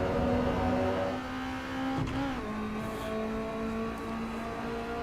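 A race car engine in the racing game Assetto Corsa EVO drones steadily at a loud, sustained pitch, easing off briefly midway before settling back into a constant whine.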